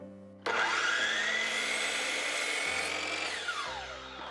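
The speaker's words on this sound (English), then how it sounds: "I'm making all my cuts on a chop saw" A chop saw slices through a wooden window trim board in one continuous, loud whining cut of about three seconds that starts abruptly and winds down at the end.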